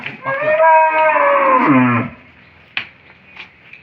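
A Friesian dairy cow lets out one loud, close moo lasting about two seconds and falling in pitch at the end, followed by quieter background sounds.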